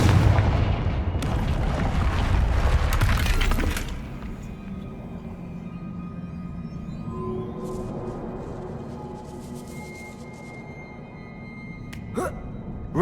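A Confringo spell blast in the Hogwarts Legacy video game: a loud, dense burst of roaring booms for a few seconds that drops off into quieter rumbling ambience with faint scattered sounds afterward.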